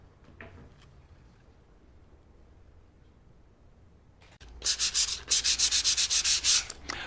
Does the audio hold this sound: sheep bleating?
no